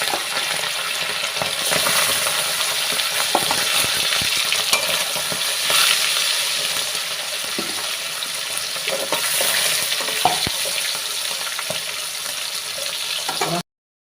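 Tilapia fish frying in hot oil in a home kitchen gives a steady, close, broadband sizzle with soft crackles and occasional light clatter, continuing without pause and with no talking.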